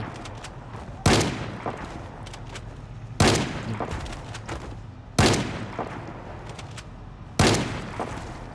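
Gunfire in the zombie survival game Project Zomboid at a police station: four sharp, loud shots spaced about two seconds apart, each trailing off into a lingering echo over a low background hum.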